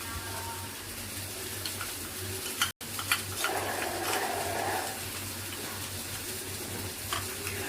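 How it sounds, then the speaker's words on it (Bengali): A spoon stirs 1.5 spoons each of ground coriander and cumin into a cup of milk, giving soft, steady scraping and swishing close by, with a low background hum and a brief break partway through. "এটা ভালোভাবে মিশিয়ে দেবো দুধের মধ্যে।"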